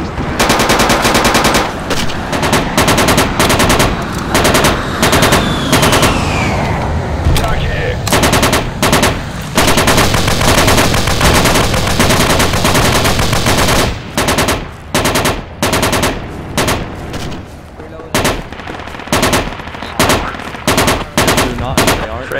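Sustained machine-gun suppressing fire in the Project Reality battle game, set at the Falklands assault on Goose Green: loud, dense bursts of automatic fire, near and continuous with brief breaks, joined by other gunshots.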